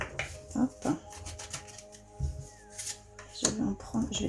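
Tarot cards are cut and shuffled by hand close up, brisk papery riffles and soft taps in short bursts, with someone speaking French around them.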